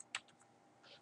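Keys on a computer keyboard are pressed while entering login credentials, giving one sharp close tap followed by a few lighter, scattered key clicks in a quiet room.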